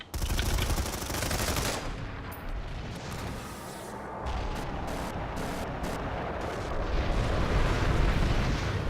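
Rapid gunfire and explosions from a competitive online multiplayer shooter match, a dense continuous barrage of shots with bursts and booms throughout, loud and sustained with no pauses.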